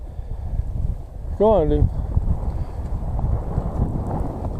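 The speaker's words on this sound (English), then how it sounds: "That wind's cold." Cold wind gusting across an exposed jetty, a steady broadband rush of microphone buffeting that runs through the whole stretch, with someone speaking briefly and a short whistle-like tone over it.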